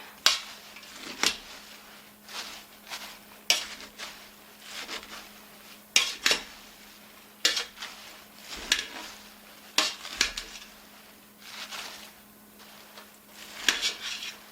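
Chopped vegetables for cortido being stirred and tossed in a large pot, with irregular scraping, rustling and knocking strokes spread over about fifteen seconds, close and moderately quiet against a faint steady hum, with no voices.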